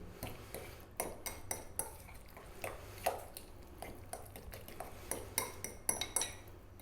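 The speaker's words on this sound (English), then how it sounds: "Give that a mix." A spoon clinks and scrapes rhythmically against a bowl while yogurt raita is stirred with chili, cumin powder, salt and fresh cilantro. The sharp taps repeat steadily and close by, with nothing else heard.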